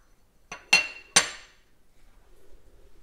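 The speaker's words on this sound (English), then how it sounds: "So let's pull this apart with the Allen key." Raspberry Pi 5 case pulled apart by hand after its Allen key bolts are removed: two or three sharp metallic clinks close by, then quiet handling.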